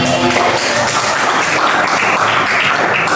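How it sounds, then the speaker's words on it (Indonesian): Classroom applause for a student after a biology lesson on breathing mechanics, a dense, steady patter of many hands clapping together close by for about three seconds, with no talk over it. "kasih tepuk tangan dong untuk Fatih."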